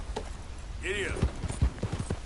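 Horse hooves clop on the ground in Red Dead Redemption 2, a few quick irregular hoofbeats close by as a voice urges the horse on, with a short whinny-like call among them.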